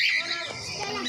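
Birds call at a zoo in Kanpur, India, giving a brief burst of squawking, chirping cries that sit close and fairly loud over a busy background.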